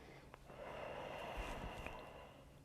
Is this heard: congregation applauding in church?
no